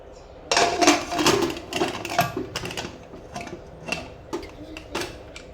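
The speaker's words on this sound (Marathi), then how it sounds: "आता कुकरला झाकण लावून घ्यायचं" Clattering metal clicks and clanks of a pressure cooker lid being fitted and locked, several sharp knocks close by, with no talking.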